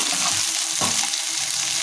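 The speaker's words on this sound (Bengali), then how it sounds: "এইভাবে আমরা এখানে ভালো করে ক্যাপসিকাম আর টমেটোটা ভেজে নিই।" Capsicum and tomato frying in a pan for paneer masala, a steady loud hiss and sizzle with a brief stirring scrape partway through, close up and with no talking.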